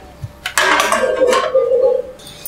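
A stainless idli cooker is set down on a stovetop for rava idli, giving a sharp metallic clatter and scrape that rings briefly, close and fairly loud with no talking.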